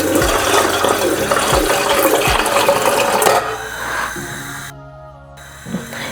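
Hot water poured into a kitchen steamer, a loud continuous gushing splash for a few seconds that then stops, followed by faint settling and a small metallic clink.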